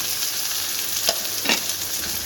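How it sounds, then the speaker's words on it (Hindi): Onions with ginger and garlic frying in a pan for baingan bharta give a steady, close sizzle, with two brief scraping stirs partway through and no voices. "अच्छे तरीके से फ्राई कर लेने हैं प्याज़ों को।"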